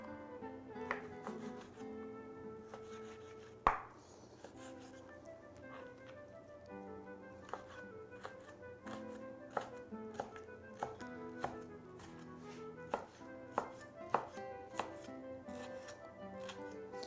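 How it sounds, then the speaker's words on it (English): A knife mincing lean beef top round on a board gives quiet, irregular chopping taps, some sharper than others, over a faint background hum with no talk. "I have a nice lean piece of beef. It's top round. I'll mince the meat."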